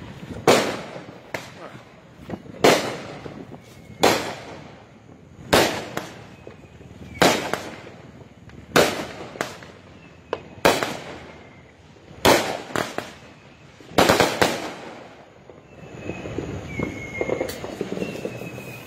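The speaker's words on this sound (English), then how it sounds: "do not pop fireworks on the ground" Fourth of July firecrackers set off on the ground explode in a steady series of sharp, loud bangs, roughly one every second or two, with crackling and muffled voices between blasts.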